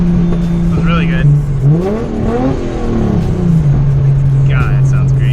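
A big-turbo Nissan Skyline R33 six-cylinder engine revs while driving, dropping from a steady drone into rising and falling sweeps before settling back to cruise, heard loud from inside the car, with brief chirps over it.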